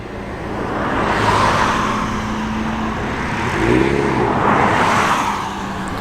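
A Porsche 944 at an outdoor car meet rolls past with a swelling engine note, rising and fading twice as vehicles pass nearby, with steady background traffic noise.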